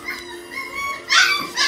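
Mini Goldendoodle puppy giving a couple of short, high yips and whimpers, close by, with a louder burst near the end and no talking.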